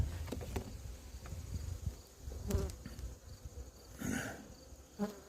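Honey bees buzz steadily in a six-frame hive readied for winter, a dense, close droning hum with a few brief louder swells and no talking.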